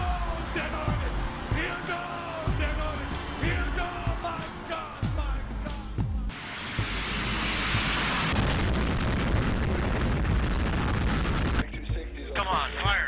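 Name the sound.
gunfire and explosions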